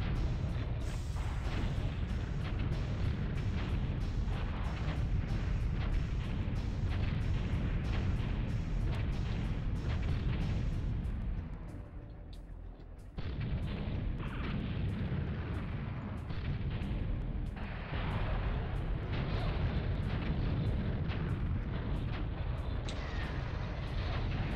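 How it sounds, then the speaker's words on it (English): Dense, continuous barrage of booming rocket explosions from the N64 vehicular combat game BattleTanx: Global Assault, rapid overlapping blasts with heavy low rumble, briefly thinning near the middle before resuming at full loudness. "Yeah, that's totally the GoldenEye rocket sound."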